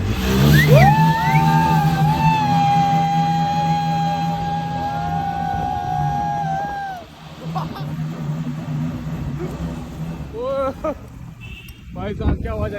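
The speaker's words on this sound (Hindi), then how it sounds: "साउंड बहुत प्यारा उस गाड़ी का" A car engine revs loudly, a long sustained roar that rises and then cuts off, with excited voices talking around it.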